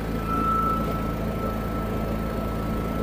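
A Honda canopy generator engine runs at a steady idle, giving a continuous low droning hum with a faint whine above it and no talking.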